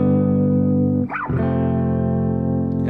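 An electric guitar plays a chord melody using bar chords, one sustained, loud chord ringing with a brief change of notes partway through before it settles again.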